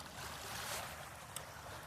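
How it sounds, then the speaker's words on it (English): Water by the shore at sunset heard as a steady, soft wash of waves with a light breeze, a faint, even hiss running throughout with one small splash near the end. "I needed the sound of the water"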